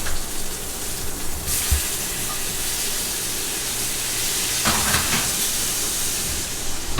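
Beef tenderloin steak sizzling in a hot cast iron pan, a steady close hiss running throughout with a brief louder crackle near the start and a few bursts in the middle.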